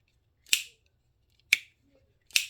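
A Benchmade Griptilian 550HG folding knife snaps open and shut, three sharp, crisp clicks spaced about a second apart, close and loud against near silence.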